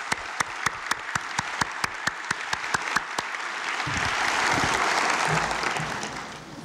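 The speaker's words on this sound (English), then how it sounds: "please join me in a round of applause to celebrate our newest members of the teaching fraternity" Audience applause at a teachers' investiture ceremony, opening with sharp rhythmic claps in unison that break into a dense, loud wash of clapping, with low murmurs beneath as it fades.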